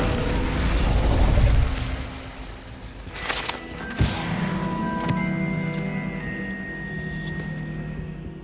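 The Incendio fire spell in the game Hogwarts Legacy bursts out as a deep, rumbling whoosh, then a sharp pop and crackling mechanical clatter settle into a lingering hum and faint chiming tones.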